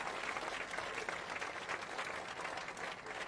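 Villagers in Chainat village clap loudly together in a celebration of their movement's victory, a dense, steady roar of many hands that runs unbroken from start to finish.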